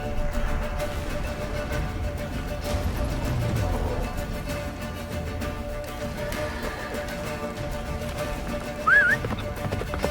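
Hooves of the horse Roach clatter in a steady galloping rhythm in The Witcher 3, set during the battle of Kaer Morhen, under a dense layer of battle noise and music, with a brief whinny near the end.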